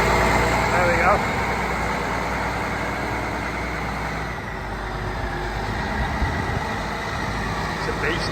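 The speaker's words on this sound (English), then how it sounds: "Makes some funny noises, the gearbox, they're all like whirling and winding." A large old engine runs at a steady idle nearby, its gearbox adding a whirring, winding drone under a loud continuous rumble, with a voice heard over it.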